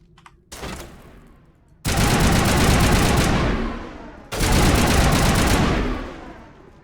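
Sustained automatic gunfire from the Mass Effect video game, loud, dense bursts, two long volleys lasting a few seconds each after a shorter opening burst, with no speech.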